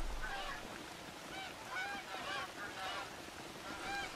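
Flocks of geese honk repeatedly in theHunter: Call of the Wild during a goose hunt, a faint chorus of overlapping calls over steady outdoor noise.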